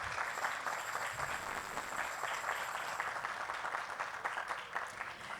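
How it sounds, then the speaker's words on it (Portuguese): Steady applause from an audience honoring congado groups at an evening cultural event in Araxá, Brazil, continuous clapping that is fairly faint and distant throughout. "Vamos aplaudi-los."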